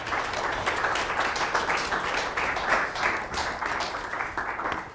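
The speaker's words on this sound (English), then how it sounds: "Let's have one more round of applause for all the speakers today" Audience at a Catholic health care symposium gives a round of applause for the day's speakers, a moderate, even patter of many hands lasting several seconds.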